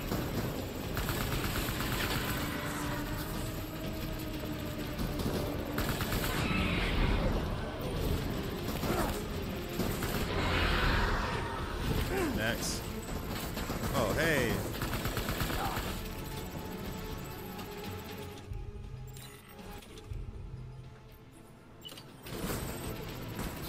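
Gunfire in the Death Stranding video game, dense bursts of shots and rattling weapon noise running continuously over a loud mechanical game soundtrack, with a voice speaking briefly.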